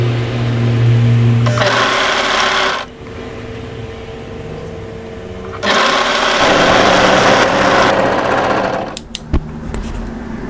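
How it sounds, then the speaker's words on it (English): An overlocker runs along a long seam of hoodie fabric in two loud, steady bursts of fast stitching, separated by a pause, with small clicks and handling noises between and after. "So overlock this long edge, making sure the double notches match."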